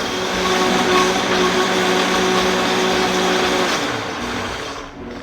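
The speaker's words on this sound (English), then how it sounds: "give it another 30 seconds to a minute to really blend and get smooth" Blender whirring at medium-high speed as it blends paleo banana pudding until smooth: a loud, continuous motor drone with a steady pitch that eases off near the end.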